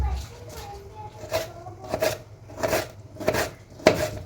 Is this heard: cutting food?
yes